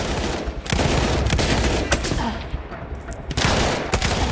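Rapid bursts of automatic gunfire from a weapon in the World War I shooter Battlefield 1, loud and close, firing in sustained volleys with short pauses and sharp individual shots cutting through.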